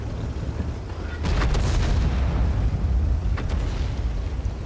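IS-2 heavy tank cannon shot in World of Tanks, a deep booming blast near 1.2 s, then a second lighter report around 3.4 s, set against a loud low rumbling engine and battle background.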